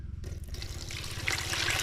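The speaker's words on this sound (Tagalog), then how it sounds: "Atin po nalagyan ng tubig." Water pours and trickles close by, the splashing growing brighter and louder toward the end, with a low hum underneath.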